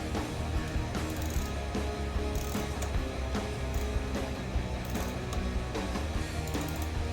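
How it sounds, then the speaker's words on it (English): A ratchet tightens a bolt during a coil swap on a Kohler V-Twin 24 horsepower engine, giving a continuous fast clicking close to the mic over a constant busy mechanical background, with no talk. "Now I can use the ratchet"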